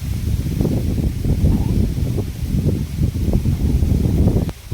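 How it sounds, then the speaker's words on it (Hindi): Fresh early-morning wind blows steadily outdoors in Russia, a loud, continuous low rush buffeting the microphone with gusty swells and no speech. "आप देख सकते हैं कितना ताज़ी हवा चल रही है"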